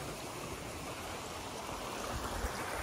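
Water flows steadily along a water race channel in Yarra Ranges National Park at night, a constant soft rushing wash with no breaks and no voices.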